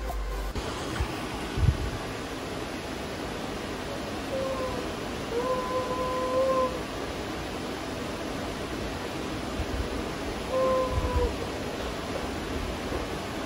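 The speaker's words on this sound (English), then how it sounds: "She's howling." A malamute recovering from anesthesia after a root canal lets out two soft, drawn-out howls, one in the middle and one near the end, faint and thin over a steady background hiss.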